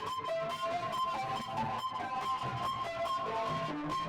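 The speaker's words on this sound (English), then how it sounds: "I've also got a kind of distorted piano thing going on in this track where it's basically an" Distorted piano running through an arpeggiator into the Rift plugin's A Few Too Many preset, for a witch house track made in Ableton; gritty, dense repeating notes play alone with no talk.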